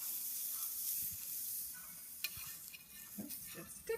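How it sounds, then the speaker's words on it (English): Ham frying in a pan on a wood stove, a soft steady sizzle with light scraping and a few sharper clinks and stirring sounds near the end, close and fairly quiet. "Now we're going to have some fried ham."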